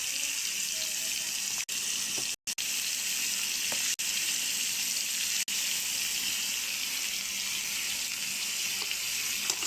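Oil sizzles and crackles steadily in a pan, a constant frying hiss with occasional brief gaps and no talking.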